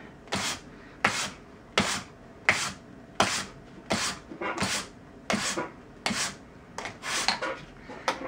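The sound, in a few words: sanding Steinway piano hammer felt with medium grit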